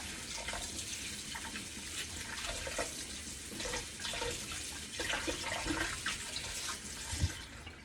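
Tap water runs steadily into a sink while backyard vegetables such as tomatoes are rinsed, with splashes and clinks of handling over a continuous broadband gush, close and moderately loud, no talking.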